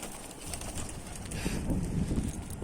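Mardin pigeons coo softly in a low, throaty murmur close by, with a brief flutter of wings under a faint background hiss.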